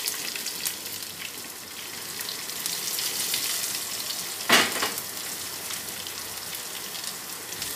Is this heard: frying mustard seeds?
yes